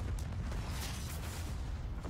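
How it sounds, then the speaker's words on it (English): Explosions in the video game Call of Duty: Black Ops Cold War, a dense, sustained low rumble of blasts and booms rolling continuously with no pause, loud and close. "Like the explosions."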